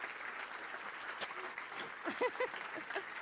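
Soft, thinning audience applause for a speaker on stage, with a sharp clap standing out and a voice talking over the tail end.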